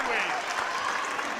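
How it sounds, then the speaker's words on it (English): A basketball crowd at Knights Hall stands and applauds near the end of a Bellarmine vs Lewis college game, a loud, continuous wash of clapping and crowd noise filling the whole moment. "the crowd here beginning to stand and applaud at Knights Hall."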